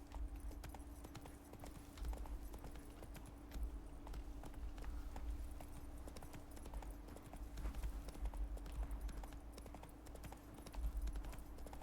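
Steady clip-clop of a horse's hooves trotting at an even rhythm in the video game The Witcher 3, with a low constant hum underneath.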